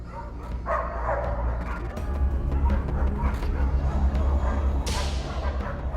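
Dogs bark and yip over a constant low rumble, the barking a little distant and intermittent, with some agitated voices mixed in.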